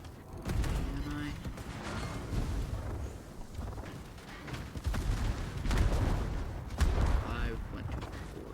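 Heavy naval gunfire from Montana battleship guns in World of Warships, with repeated deep booms and rumbling blasts at irregular intervals under steady engine and ambient game noise, while someone talks over it.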